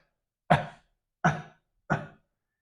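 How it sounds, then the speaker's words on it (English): Three short, gentle coughs from one person, evenly spaced about 0.7 seconds apart, close and soft against silence, done as part of a deep-breathing exercise. "And then just do a gentle cough."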